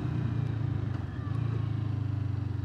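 Low, pulsing idle of a Kawasaki Vulcan S 650 motorcycle engine through its stock exhaust, a steady close-up throb with a brief dip in the middle.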